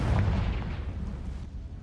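Fiery Confringo spell blast from the Hogwarts Legacy video game, a loud booming burst at the start that rumbles on in a heavy low roar and slowly fades, with no talk over it.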